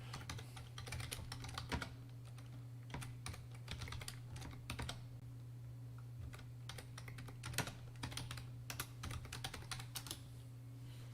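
Computer keyboard keys clatter in irregular bursts of quick taps separated by short pauses, fairly close and quiet over a steady low electrical hum, with no voices.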